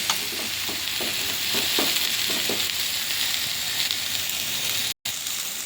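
Cumin-coriander paste and chili powder frying in a pan, a continuous close sizzle with soft rhythmic scraping strokes early on, steady and without talk, cut by a brief dropout near the end.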